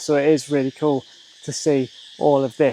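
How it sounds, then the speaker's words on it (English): Crickets chirp in the jungle around the Angkor temples in Cambodia, a steady high buzzing layer that runs under a man's close, continuous talk. "the sound of crickets. It's actually wild how many there must be,"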